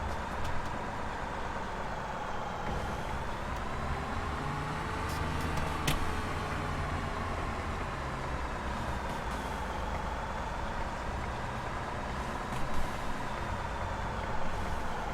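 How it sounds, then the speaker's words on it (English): Heavy combine harvester engine driving in Farming Simulator 2017, a steady low drone with a faint whine that shifts pitch slightly as it moves, continuous and close throughout. "Let's get back into the combine harvester."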